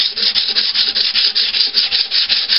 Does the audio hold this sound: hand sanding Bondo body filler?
yes